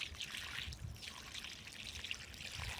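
Water trickles slowly from a bucket onto the ground at a farm plot, a soft, steady pour with faint splashing, quiet and continuous throughout.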